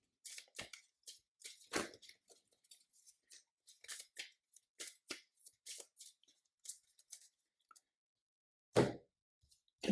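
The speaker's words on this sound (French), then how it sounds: "et je peux mélanger mon deck" A deck of Marvel Champions cards is shuffled by hand, producing a string of quick, close, crisp riffling snaps and flicks in irregular bursts, with one louder slap near the end and no talking.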